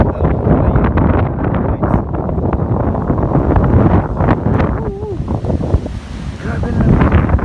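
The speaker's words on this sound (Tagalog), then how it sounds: "Sobrang windy guys." Strong night wind gusting through trees outdoors, heard as a constant loud roar with heavy buffeting on the microphone throughout.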